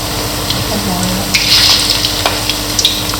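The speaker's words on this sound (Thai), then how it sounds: "น้ำมันร้อนแล้วนะใส่" Pork frying in hot oil gives a loud, close, continuous sizzle with crackling pops.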